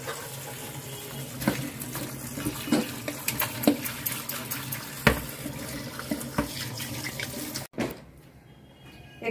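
Water runs from a tap and splashes over cooked banana stem in a bowl, a steady close stream with irregular splashes and clinks, ending abruptly in a quieter, hollow tail.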